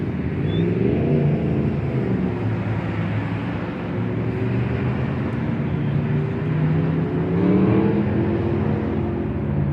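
A car with a small-block engine runs at high revs, a steady loud roaring drone that wavers slightly in pitch throughout, heard up close with no talking.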